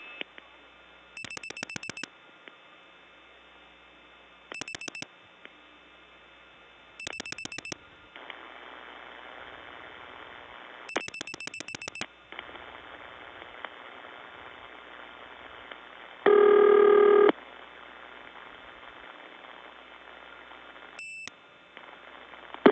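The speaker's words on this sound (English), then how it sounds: "That time I dialed 746, we got a noisy trunk." A 1979 step-by-step telephone tandem switch in Gainesville, Georgia, trunk after dialing 746: a series of short pulsed tone bursts, then a hissy noisy line with a loud tone blip near the end.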